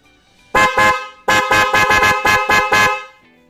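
A Korsa motorcycle horn sounds in two short blasts and then a quick series of rapid honks, loud and close, with no talking over it.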